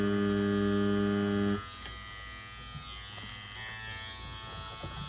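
A Stigma tattoo machine running at about 8 volts gives a steady electric buzz with a strong mains-like hum, loud for the first second and a half, then settling into a quieter, rougher drone.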